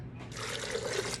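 Water poured into a blender jar over soaked cashews for vegan queso, a short close splashing fill with no talking.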